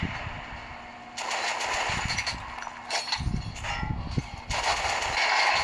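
Gunfire from shooting an armored enemy in the video game Metro: Last Light, a series of loud bursts and clattering shots with mechanical noise layered over a continuous low game soundscape.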